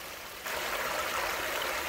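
A small trickling stream running down over rocks, a minor waterfall outdoors, gives a steady broadband rush that swells louder about halfway through and continues without break, with no talking.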